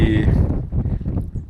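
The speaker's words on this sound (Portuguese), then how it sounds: "que vento" Strong wind gusts across a salt flat, buffeting the microphone with a loud, rumbling roar, with a rider beside a rocky outcrop during a family bicycle trip; a brief voice is heard at the start.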